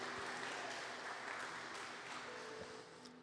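A church congregation applauds during a worship program, a steady wash of many hands clapping, moderately distant and fairly faint, thinning slightly at the end.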